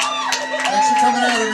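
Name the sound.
audience cheering and applauding for comedians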